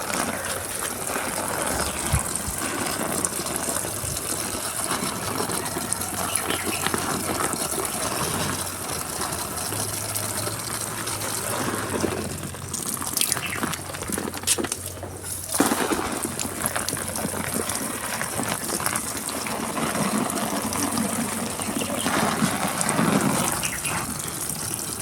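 A hose waters garden plants with a weak flow, heard as a steady, close rush of spraying water that continues without a break throughout.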